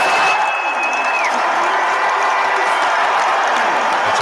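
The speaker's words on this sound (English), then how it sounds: "You definitely heard cheers for Tyrese." Arena crowd cheering loudly and steadily throughout, recorded on a phone at a basketball game during the introduction of Tyrese Haliburton, with a dense wash of voices and applause.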